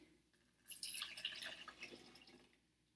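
Water squeezed from a sponge pours into a measuring cup, a close, trickling and splashing stream lasting about two seconds before it tapers off to drips.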